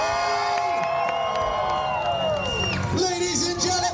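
A large crowd at a bike stunt show screams, whoops and cheers loudly all at once, a dense wall of high-pitched yells and shouts sustained throughout, swelling near the end.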